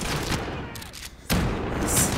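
Call of Duty: Modern Warfare gunfire crackles in dense bursts, with a loud blast near the middle and continuous rattling shots around it.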